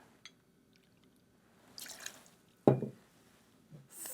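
Fernet is poured into a mixing glass for a 1906 Fernet cocktail, with faint drips and a brief close splash of liquid, then a short trickle amid quiet pauses.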